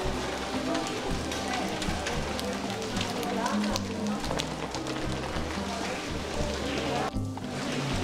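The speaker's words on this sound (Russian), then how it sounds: "А дождь не утихает." Heavy rain pours steadily down on a street in the Spanish city of Murcia, a dense, continuous hiss and patter that stays loud and close throughout, with broad low rumbling underneath and no pause.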